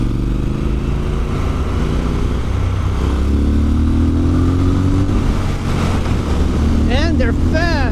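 A Triumph Scrambler 1200 XE motorcycle engine idles and rumbles close by, a steady deep throb with a slight rise in pitch midway and wind buffeting the microphone throughout.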